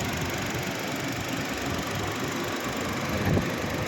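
A 2017 Honda Civic 1.8 EL engine idles steadily with a low, rumbling drone, constant throughout with a brief louder bump near the end.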